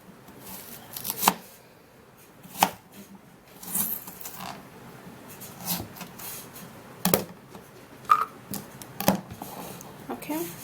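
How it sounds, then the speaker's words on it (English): Sharp, irregular knife strikes cutting an onion on a cutting board, a dozen or so crisp chops spaced unevenly over a quiet background with faint talking. "we're just going to be cutting the onion"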